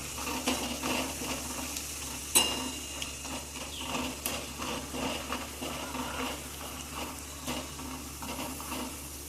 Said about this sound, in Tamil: இப்போ எண்ணெய் வச்சுருக்கேன். உங்களுக்கு பொரிச்சு காமிக்கிறாங்க. பொரிக்கிறேன்.